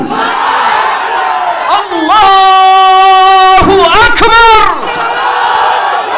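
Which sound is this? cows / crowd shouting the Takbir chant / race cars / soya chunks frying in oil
crowd shouting the Takbir chant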